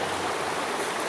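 A river flows beneath a bridge in Ontinyent, Spain, making a continuous, even rushing of water that stays loud and close throughout, with no voices.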